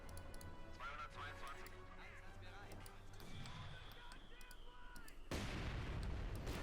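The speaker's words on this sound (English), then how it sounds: "Got the anti-aircraft there firing right at the house's stout walls." In the Company of Heroes 2 real-time strategy game, an anti-aircraft gun fires repeated rapid bursts at a house's stout walls amid other battle sounds, with a commentator talking throughout and a heavy explosion near the end.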